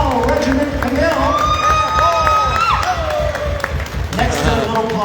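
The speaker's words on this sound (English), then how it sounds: "let's have a nice round of applause for all the guys up here entertaining this afternoon" An outdoor crowd at a Polish American festival and country fair cheers, whoops and claps for band members on stage, loud and sustained, with shouted voices and a rising whistle-like cry above the noise.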